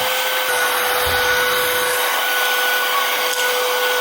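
An ALPTHY cordless electric air duster blows built-up sawdust with a loud, steady high-pitched whine and rushing air, running continuously and close throughout.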